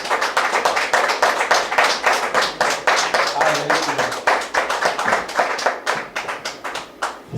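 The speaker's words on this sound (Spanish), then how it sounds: "Le damos unas palmas a Dios." A church congregation claps hands in rhythm for God, a loud, steady beat of sharp claps at about three per second, continuing throughout with some voices faintly underneath.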